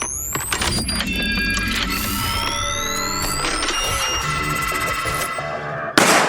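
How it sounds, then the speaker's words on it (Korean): Scattered gunshots crack amid a busy mix of mechanical whirring and rising electronic tones, with a sharp louder burst near the end. "여기 오자마자 총소리가 나네요"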